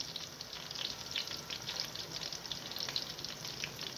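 Eggplant slices frying in oil, a soft, even crackle with bright popping spatters throughout, steady and fairly quiet with no speech.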